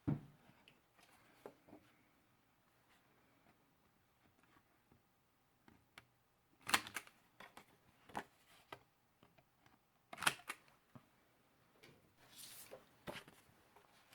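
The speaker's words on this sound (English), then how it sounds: "you want to cut the decorative edges so that it matches this flap right here" Scissors snip through decorative paper edges for an envelope flipbook, producing a few soft, close cutting crunches and light paper rustles scattered through a quiet room.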